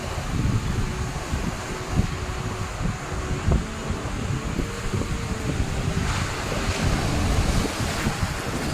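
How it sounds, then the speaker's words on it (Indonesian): Powerful ocean surf roars continuously on a beach west of Yogyakarta Airport, Java, with waves crashing and churning nearby and gusty wind buffeting the microphone. "Jadi tekanan ombak di sini tuh sangat gede ya, dibandingkan pantai-pantai yang lain."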